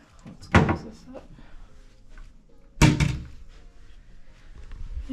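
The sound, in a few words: closing drawers in a hotel room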